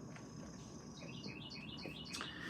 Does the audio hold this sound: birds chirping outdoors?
yes